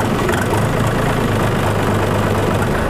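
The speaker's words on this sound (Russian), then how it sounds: "Выжимаем сцепление и заводим." A DTZ 5244HPX mini tractor engine runs loud and close with a continuous rough, low mechanical drone that holds steady throughout, with no voices.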